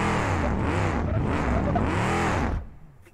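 Car engine in BeamNG.drive straining over a rocky road, a loud steady harmonic drone with rising and falling revs that cuts off abruptly near the end, leaving quiet.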